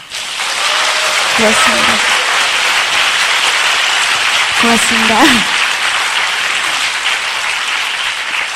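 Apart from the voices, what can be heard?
audience applause at Amway event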